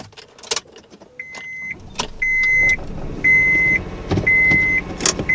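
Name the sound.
2000 Honda Insight car starting a test drive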